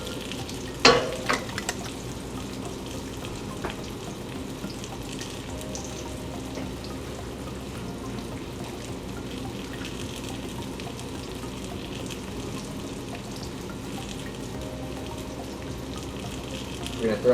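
Potatoes sauté in a pan with coffee-rubbed steak flavors, crisping with a moderate, even sizzle that holds steady throughout, marked by a couple of sharp knocks near the start and end.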